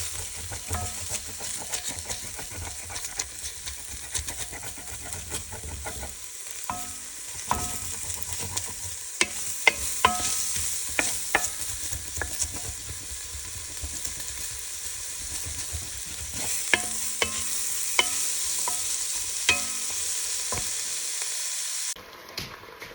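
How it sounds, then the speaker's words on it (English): Onions frying in a pan are stirred, with a steady loud sizzle and hiss and occasional clinks and scrapes of the utensil against the pan throughout. "I'm gonna give our onions a little stir."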